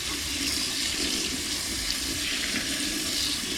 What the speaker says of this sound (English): I'll just rinse him off because it's got a bit of sand on him.